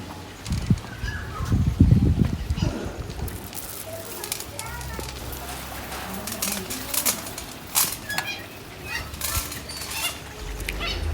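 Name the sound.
birds chirping in aviary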